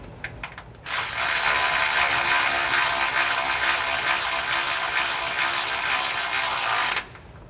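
A ratchet runs down a bolt on a SumoSprings Rebel helper spring being fitted to a 2015 Winnebago, a loud continuous rapid clicking that lasts about six seconds after a few faint taps.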